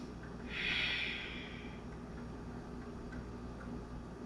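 During a yoga flow, a single deep breath swells and fades as a soft, airy hiss, quiet and close, followed by low background hum.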